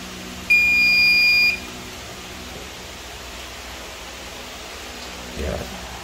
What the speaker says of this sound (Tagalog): Pag tumunog na siya at nag-beep, ito po yung JO1 niya.